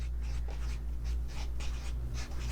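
A pen scratches across paper in short quick strokes, a faint close scratching over a steady low hum, with no voices.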